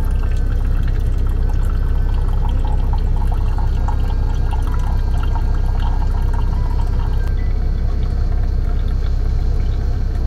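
A Keurig K-Mini single-serve coffee maker dispenses French vanilla cappuccino into a cup, a loud, continuous liquid stream with a steady machine hum for the whole stretch and no talking.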